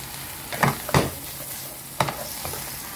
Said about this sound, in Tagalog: Halo-halo lang hanggang sa maluto